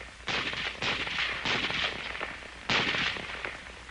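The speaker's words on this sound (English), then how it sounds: ".30 M1, commonly known as the Garand, is not only a dependable weapon, it also has a terrific wallop" Several shots from a .30 M1 Garand rifle, sharp loud bursts spaced irregularly about half a second to a second apart, with broad noisy echo between reports and no talking, in an old US Army training setting.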